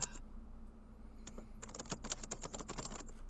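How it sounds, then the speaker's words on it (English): Rapid typing on a computer keyboard, bursts of quick clicks starting alone and then turning into a dense, steady run of keystrokes over a low background hum. "Who the fuck is typing?"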